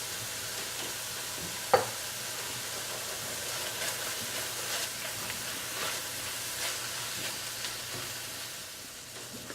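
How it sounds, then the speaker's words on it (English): Turkey filling stirred in a sizzling pan, a steady low frying hiss with soft scraping under it and one brief sharp clink, moderately quiet and close, with no voices. "I'm just going to mix well."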